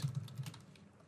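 Quick bursts of keystrokes on a computer keyboard as a workflow name is typed, a close, fairly faint run of taps over about a second with no talking.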